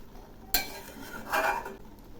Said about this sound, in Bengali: রান্নাটা এখন হয়ে গেছে, একটু নেড়ে চেড়ে নামাবো